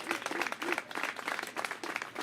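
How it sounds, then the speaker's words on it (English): An audience at a New York City mayoral parks announcement claps in a short, lively burst of applause, moderately loud and continuous with scattered individual claps. "Let's give her another round of applause."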